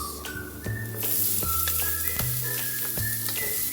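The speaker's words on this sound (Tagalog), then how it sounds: "maglalagay na tayo ng sibuyas" Onion sizzles in a hot pan for chicken lumpia, a steady loud frying hiss that swells after the first second, with soft stirring taps and tonal background music underneath and no talking.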